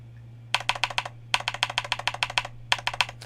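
Bursts of keystrokes on an Akko MOD 007 mechanical keyboard with tactile switches, quick clicky taps in three runs separated by short pauses, close and clear over a steady low hum.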